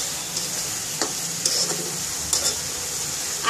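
Shrimp frying in a pan as it is stirred, a steady bright sizzle broken by several sharp scraping stirs of the spatula, close and clear with no voices.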